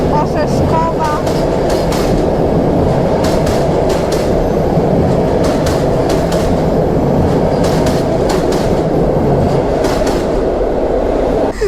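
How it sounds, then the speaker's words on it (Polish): Passenger train Orzeszkowa hauled by an EP07 electric locomotive arrives at Warsaw Central station, a loud, continuous rumble with rhythmic clicking of wheels over rail joints throughout, heard close. "Pociąg rozkurzył tutaj z torów te wszystkie brudy."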